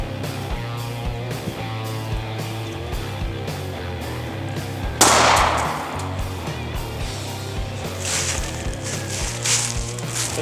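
A Glock 23 fires one 40 S&W 200 grain jacketed hollow point round, a single loud sharp report that decays quickly into outdoor background noise and steady music.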